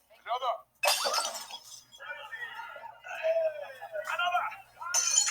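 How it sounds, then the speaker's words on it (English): A glass is slammed onto the ground and shatters in a Loki episode, a sharp breaking crash that bursts out between stretches of voices speaking. "when he finishes his drink, he slams it on the ground and yells, "Another!""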